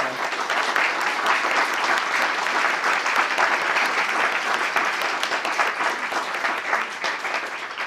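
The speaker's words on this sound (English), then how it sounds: "please join me in applause for these wonderful conversants" Sustained applause from an audience at a workshop, dense steady clapping filling the room, loud and even throughout with no voices over it.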